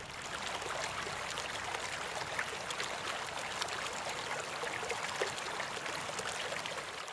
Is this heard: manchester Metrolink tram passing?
no